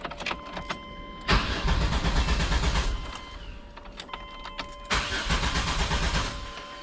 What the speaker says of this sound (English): I'm going to turn the key here.